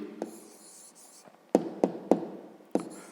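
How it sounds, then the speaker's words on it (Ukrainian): A pen writes an answer by hand on paper in a maths exercise, faint scratching strokes broken by several sharp taps as the pen touches down, close and quiet with no talking. "Добре, ну а тепер записуємо відповідь."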